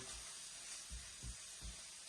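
Food sizzles quietly in a pan under a soft, steady hiss, with a few low knocks from a utensil.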